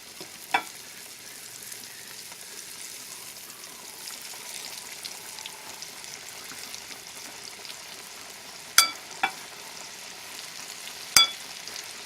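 Cornmeal- and spice-coated catfish fillets fry in hot oil, giving a soft, continuous sizzle with a few sharp clicks and taps scattered throughout, no voices heard.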